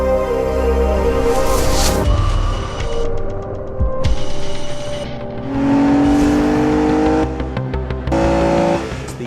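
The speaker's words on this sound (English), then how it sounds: "Effortless performance from this 6-litre V12 engine, effortless torque, effortless power" Aston Martin DB9 with a 6-litre V12 revving loudly and continuously, the engine note rising and falling through several surges with brief dips, a full throaty roar close by and no talk.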